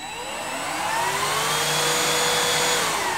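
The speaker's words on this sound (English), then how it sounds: "when I press on this trigger, it will start the vacuum process" A Hoover Henry vacuum cleaner starts up, its motor whine rising slowly in pitch as it gets up to speed, then holding a steady, loud, close drone.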